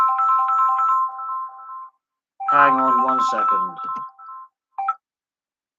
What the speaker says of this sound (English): Ooh, he's ringing me.